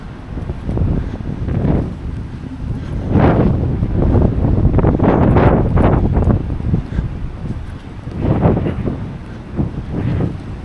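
Strong wind gusts blow outdoors near Palma cathedral in Mallorca. The roaring buffeting rises and falls steadily and loudly across the whole stretch.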